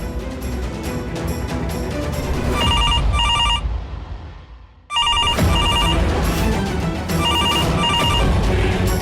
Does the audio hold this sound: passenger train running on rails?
no